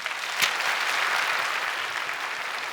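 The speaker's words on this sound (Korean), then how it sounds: "이 시간 우리 인사하실 때 우리 박수로 격려해 주시기 바랍니다" Church congregation applauding during a Sunday worship service to welcome newly baptized members, a broad, steady roar of many hands clapping, starting with a sharp clap and holding even throughout.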